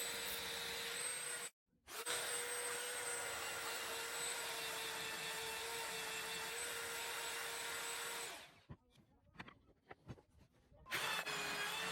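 Sander smoothing pallet-wood pieces for laptop stands: a steady, loud whirring hiss runs unbroken for several seconds after a brief pause, then cuts out, leaving scattered small knocks and handling sounds before the motor starts again.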